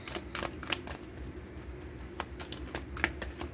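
Oracle cards are shuffled close by in a quiet room, making a run of soft riffling flicks and taps at an uneven rhythm with no voice over them.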